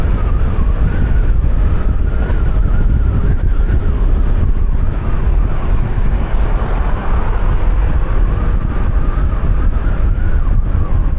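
A Honda PCX 160 scooter rides at speed, its engine hum buried in loud, steady wind buffeting that roars without a break throughout.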